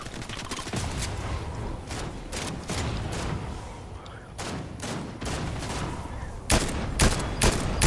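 Dense, rapid bursts of gunfire in the video game Fortnite, volleys crackling one after another for several seconds and ending in a louder close burst.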